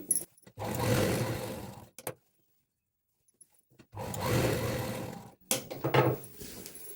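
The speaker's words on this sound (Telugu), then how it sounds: "సేమ్ రెండో పార్ట్ కూడా అలానే ఫోల్డ్ చేసుకుని స్టిచ్ చేసుకోవాలండి" A sewing machine stitches a folded petticoat piece in two steady motor-driven runs of about a second and a half each. A silent pause separates them, and a few short clicks and handling knocks fall around them.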